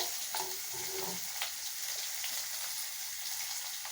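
Finely chopped large onion hisses and sizzles steadily in a hot pan, a bright continuous fry with a couple of faint clicks near the start, nobody speaking.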